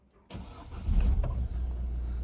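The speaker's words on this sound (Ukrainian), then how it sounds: "Автомобіль з півоберту у нас заводиться" A Peugeot 3008 1.6 diesel with automatic transmission cranks briefly and fires up at once, settling into a loud, steady close-up idle.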